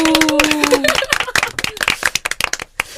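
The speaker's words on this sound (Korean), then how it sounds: "박수" A small podcast studio group claps quickly in a short burst of sharp, close hand claps that thins out after a few seconds, with speech at the start.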